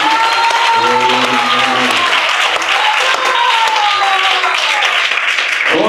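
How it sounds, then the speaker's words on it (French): A church congregation applauding and cheering for Jesus, loud sustained clapping with a voice rising and falling over it, cutting off near the end. "On acclame Jésus."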